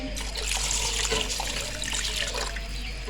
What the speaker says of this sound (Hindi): एक गिलास इसमें और डालेंगे क्योंकि ये पानी कम है इसमें।